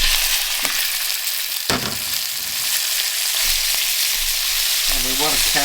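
Rump steak pieces sear in smoking-hot rice bran oil in a pan, a loud continuous sizzle and crackle with a few sharp stirring scrapes, no talking.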